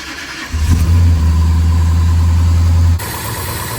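A 1967 Dodge Coronet 500 V8 with broken rockers and bent pushrods cranks briefly, then catches and runs loud and rough close by for a couple of seconds before cutting off.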